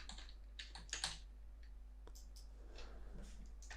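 Quiet keyboard typing while entering a column name in a rendering app, a handful of soft clicks spread across the clip with a slightly louder burst early on, over a low steady hum.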